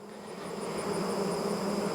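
Honeybees at a hive with an open feeder hum in a steady, dense drone with a faint whine, close and moderately quiet, slowly swelling a little, with nobody talking.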